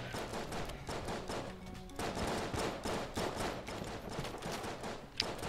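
Dense, continuous volleys of gunfire from many bullets in the Enter the Gungeon video game, a cursed mimic fight, rattling rapidly throughout with a sharp spike near the end.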